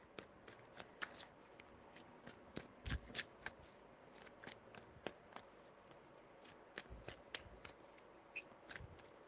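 A deck of cards being shuffled during a tarot reading, with fast riffling bursts and sharp card snaps repeating close by at a quiet level and no talk.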